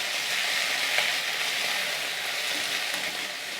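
Fresh mint and coriander leaves sauté in a hot pan, giving a steady loud sizzling hiss with faint stirring scrapes, close and continuous with no talking.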